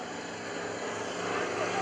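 An aerobatic airplane performing at the 2013 Greenwood Lake Airshow, its engine giving a steady, broad droning roar from a distance that swells slightly as it tumbles through vertical manoeuvres.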